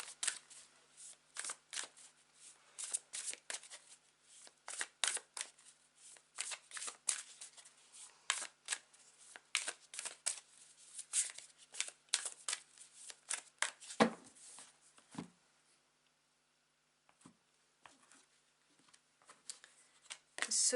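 A tarot card deck is shuffled by hand up close, giving quick, papery flutters and riffling slaps in irregular bursts. It goes quiet near the end, then resumes briefly.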